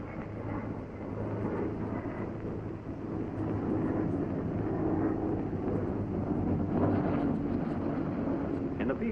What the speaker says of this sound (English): You're coming in for a normal 3-point landing.